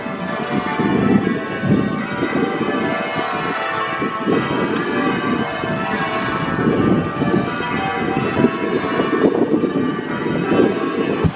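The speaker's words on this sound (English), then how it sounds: "you can hear the bells ringing" Church bells peal continuously in overlapping rings at the Washington National Cathedral, loud but washed with heavy wind buffeting against the microphone.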